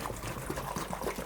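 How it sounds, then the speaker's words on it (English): Bottled water pours steadily into a container of Korean pear kimchi, a soft continuous trickle and gurgle heard close and alone. "Then I'm going to add the waters now. I'm going to use bottled water."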